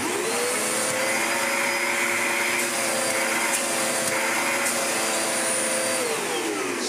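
Hoover Enigma vacuum cleaner, a refurbished secondhand unit, running steadily with the hose removed for a suction check: a loud, continuous motor whine and airflow rush throughout, with no talking.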